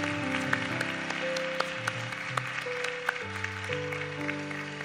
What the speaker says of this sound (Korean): 다시 한번 우리 콰이어들에게 감사의 박수 한번 드리겠습니다